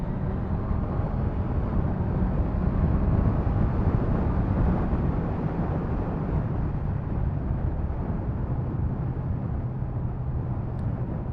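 A 2023 Honda CBR650R motorcycle riding steadily with a muted exhaust, a smooth continuous drone mixed with wind rush, constant in level and with no talking.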